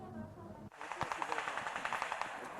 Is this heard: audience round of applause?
no